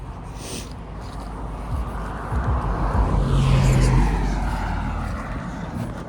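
A car passes close by outdoors, a broad engine and tire rumble swelling toward the middle and fading away over about six seconds, with steady background noise throughout.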